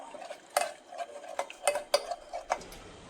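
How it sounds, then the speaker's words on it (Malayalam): A spoon stirring a milk mixture in a cooking pot, with repeated light metallic clinks and scrapes in an irregular rhythm, close and fairly quiet, with no voices. "കുറേശ്ശെ ഒഴിച്ച് മിക്സ് ചെയ്യാം നന്നായിട്ട് മിക്സ് ചെയ്ത് കൊടുക്കാം"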